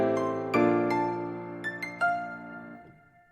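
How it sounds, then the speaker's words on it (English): A short piano melody opens a glaive hyperpop type beat. A handful of soft, sustained notes play alone, with later notes lighter and a gentle decay at the end. "I made a little piano melody."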